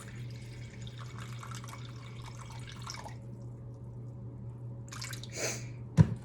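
About 212 grams of water pours into a bowl for mixing sourdough, a soft steady trickle for a few seconds, then a brief splash and a small clink close by.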